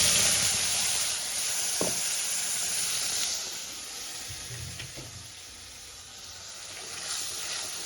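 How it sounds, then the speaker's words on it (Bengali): Spice paste fries in butter and white oil for a dhaba-style palak paneer, giving a steady close hiss and sizzle with a couple of faint stirring knocks. "মশলাটা আমি ভালো করে কষিয়ে নেব।"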